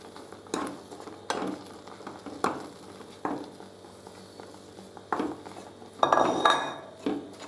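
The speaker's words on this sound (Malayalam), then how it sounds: "എന്നിട്ട് നമുക്കിത് കുറേശ്ശെ ഇട്ടിട്ട് ഉപ്പുമാവിന് കലക്കുന്ന പോലെ കലക്കിയെടുക്കാം." Roasted rava being stirred into a pan for sweet upma, a spoon scraping and clinking against the metal in several separate sharp strokes with a faint sizzle underneath, close and fairly quiet.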